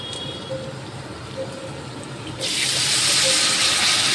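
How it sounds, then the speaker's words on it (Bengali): Water poured into a cooking pan holding a fish curry with helencha greens and potatoes: a quiet, steady background gives way halfway through to a loud, continuous rushing pour that carries on to the end, close up. "এবার জল দিয়ে ওটা ঢেকে দেব"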